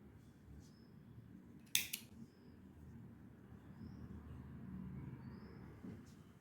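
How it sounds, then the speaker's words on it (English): Scissors snip through crochet thread in a single quick, close cut amid a quiet room hush. "Now we are going to chain 1 and cut off the thread."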